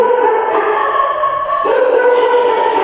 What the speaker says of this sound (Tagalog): Ingay nung aso.